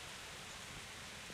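Steady, even rain hiss in Kingdom Come: Deliverance, a soft continuous wash of falling water with no other sounds standing out.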